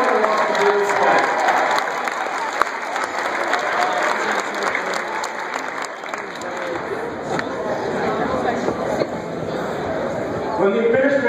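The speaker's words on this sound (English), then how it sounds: "Give yourselves a round of applause." Audience at a school sports assembly claps steadily and loudly, a dense, sustained wash of applause filling the whole stretch with a faint crowd murmur beneath it.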